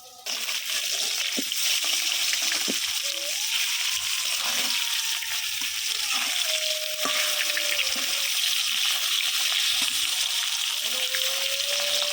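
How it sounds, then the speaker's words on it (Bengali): Steady, close sizzling of fish frying in hot oil, a dense hiss running throughout with occasional faint clinks. "এই যে আমার মাছগুলো ভাজা হয়ে গেছে"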